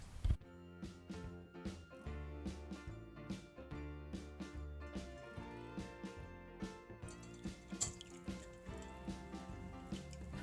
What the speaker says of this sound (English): Place a sieve over a bowl and pour the mixture through it.